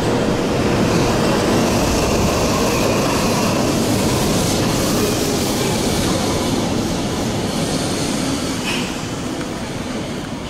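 A suspended monorail train at Chiba Station rumbles past with a broad, steady roar that holds loud and slowly eases toward the end; no voices.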